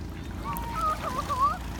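Ducks being fed in a cloudy, cold park give a few faint quacks and honks in a brief burst, softly heard over a low outdoor background.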